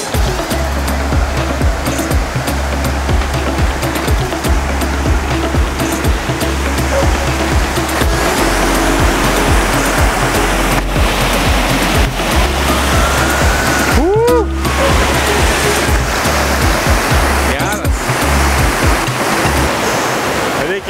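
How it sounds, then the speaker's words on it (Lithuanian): A small stream pours into a river, making a steady, loud, close rush of water that fills the whole stretch without pause. "čia toksai upeliukas įteka, o paskui į tą įteka"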